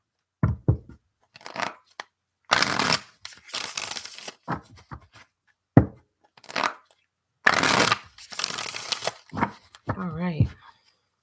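Shadowscapes tarot cards shuffled by hand in several loud, papery bursts of riffling and sliding, separated by short pauses, with the deck handled close by.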